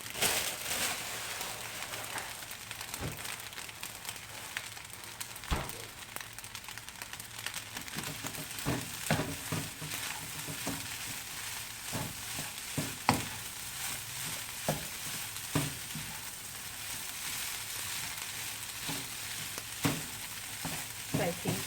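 Egg and grilled chicken fried rice with spinach being stir-fried in a pan, a continuous loud sizzle broken by frequent scraping and clacking of the spatula, with no voices.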